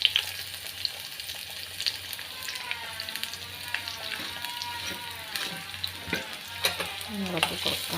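Garlic and ginger frying in a pan for a fish curry, a close, constant crackling sizzle with intermittent stirring scrapes and clinks over a faint background hum, no voices.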